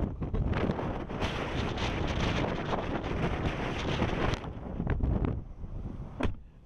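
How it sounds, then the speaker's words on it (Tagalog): Strong wind buffets the microphone during trout fishing, a loud continuous roar that eases briefly near the end before a final gust. "Lakas ng hangin oh."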